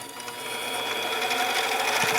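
A hacksaw cuts metal stock for lathe chuck jaws, producing steady, close rasping strokes that build in loudness over a couple of seconds, heard alone.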